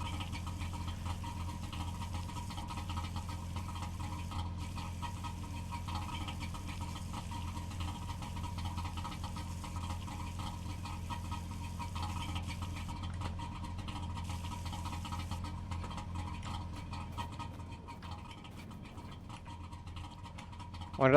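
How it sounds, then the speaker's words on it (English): A two-stroke car engine idling steadily for a long stretch, a constant low droning rumble with a faint buzzy vibration, unchanging and alone. "It's a two-stroke."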